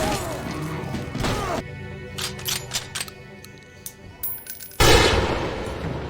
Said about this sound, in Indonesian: walkers pun mulai mencoba menjebol pintu kaca gedung tersebut